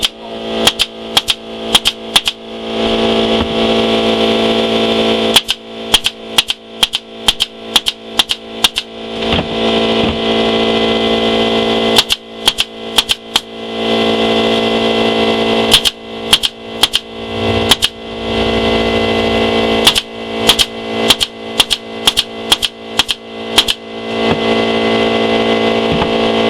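Staple gun driving 1-inch staples into the sides of a wooden beehive nuc box, firing in rapid clusters of sharp snaps over a steady compressor or engine hum, close and loud throughout.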